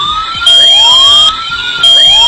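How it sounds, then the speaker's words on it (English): A home control system speaker sounds a water overflow alarm siren, a loud, close electronic wail that sweeps up and repeats in short cycles, alone without talk. "This siren sound is coming out of this speaker."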